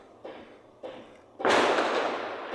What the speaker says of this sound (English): It's Diwali time and a lot of firecrackers going on.